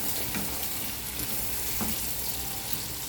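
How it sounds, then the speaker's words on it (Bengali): Onion and chicken pieces frying in a pan, a steady soft sizzle with occasional light stirring scrapes, fairly quiet and without talk. "পেঁয়াজটা ভাজাও হয়ে গেল।"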